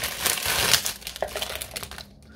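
Plastic packaging of a pack of Goldwell hair-sectioning wave clips crinkles and rustles as it is opened, a busy close crackling burst that tapers off into near silence.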